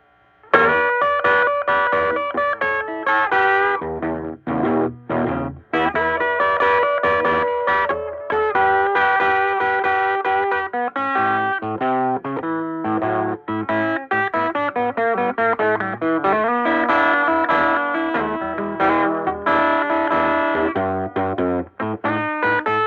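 Electric guitar riffs and chords roar through a restored 1946 Magnatone Varsity amplifier turned all the way up, loud and distorted with a busy, continuous rhythm and no talking.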